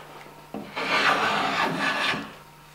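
Close and clear, a hand tool shaves layered wood along the grain, lifting whisper-thin shavings in one steady rasping stroke that lasts about a second and a half before fading out.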